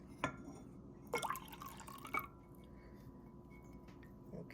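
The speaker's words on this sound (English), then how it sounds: "watch as I pour the vinegar into the indicator and see what happens" Vinegar poured in a few short splashy bursts into a jar of indicator liquid, with dripping and trickling in a quiet room.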